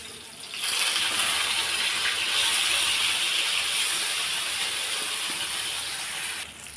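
Fish shallow-frying in a pan after being turned over, a steady bright hiss of hot oil sizzling close up, continuous and even from start to finish with no talking.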